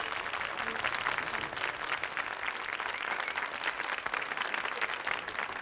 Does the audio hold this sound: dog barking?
no